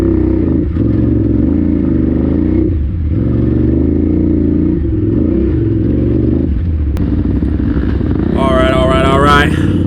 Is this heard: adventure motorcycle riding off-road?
yes